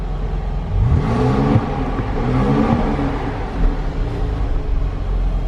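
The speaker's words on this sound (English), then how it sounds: "Let's go ahead and put in Sports Plus and hear that exhaust." A 2018 Mercedes-AMG C43 4MATIC exhaust in Sport Plus mode gives a few short throttle blips over a low idle rumble, heard close and moderately loud.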